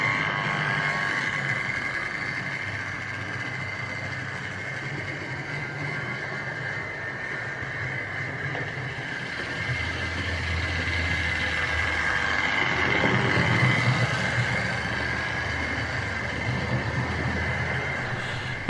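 A Tri-ang R350 L1 model locomotive in SR green runs along its track with a continuous whirring hum and rumble, swelling slightly as it passes close by.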